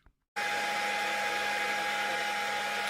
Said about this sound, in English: I'm using the hair dryer to evaporate the water